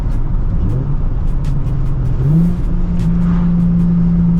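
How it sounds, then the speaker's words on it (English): A Nissan 350Z engine drones loudly and up close inside the car, rising in sharp revving blips as it downshifts, with two clear surges before settling into a steady hum. "The downshifts in this thing are so awesome."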